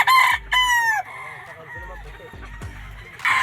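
A broodcock on a Philippine gamefowl farm crows loudly and close, one long cock-a-doodle-doo near the start and another beginning at the end, with scattered clucks, farm noise and a little background talk between.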